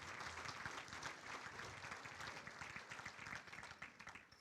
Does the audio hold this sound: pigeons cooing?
no